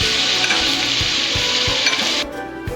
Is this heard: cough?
no